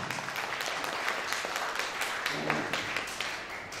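Audience applause at a work-culture lecture in Surabaya, a steady wash of clapping lasting about four seconds at moderate level, no voices over it.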